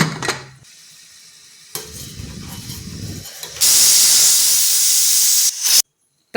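A pressure cooker full of carrot halwa lets out a loud, steady steam whistle and hiss for a couple of seconds, preceded by quieter kitchen clatter and bubbling, then cuts off abruptly.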